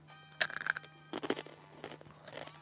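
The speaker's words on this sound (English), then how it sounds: "Ah, that's crunchy. These chips are spicy." Spicy chips crunch loudly between the teeth in a few sharp bites followed by softer chewing crackles, close to the ear over a faint steady electrical hum.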